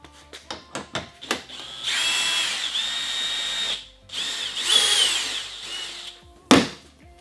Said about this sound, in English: One more bolt we gotta remove.